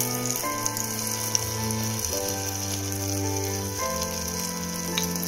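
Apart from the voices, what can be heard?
medu vada batter frying in hot oil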